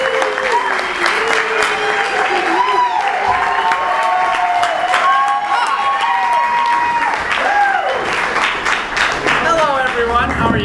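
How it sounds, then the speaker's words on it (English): A crowd at a comedy festival applauds for an improv troupe, loud continuous clapping with some cheering, while voices carry over it. "I want you all to give a big round of applause for them."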